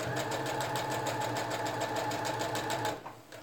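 Steady, fast rhythmic whirring of a sewing machine top stitching a wallet with a lengthened stitch, running continuously up close before slowing and stopping at the end.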